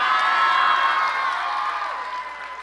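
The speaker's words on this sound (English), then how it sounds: "Big round of applause to our summa cum laude honorees." Graduation ceremony audience, Democracy Prep Charter High School class of 2022, applauding and cheering for summa cum laude honorees: dense, loud crowd clapping with whoops and shouts, steady throughout and easing slightly toward the end.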